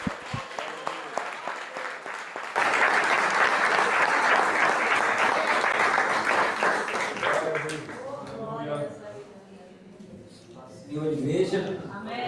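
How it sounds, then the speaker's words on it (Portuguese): Church congregation applauding during a Portuguese-language family worship service, a dense, loud burst of clapping that swells, then thins out as a voice begins speaking over the fading claps. "Aplauda mais forte ao Rei"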